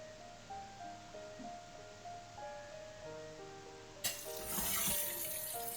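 Eggplant pieces, skin side down, fry in hot oil in a kadai, a soft steady sizzle that swells into a louder, brighter crackle partway through.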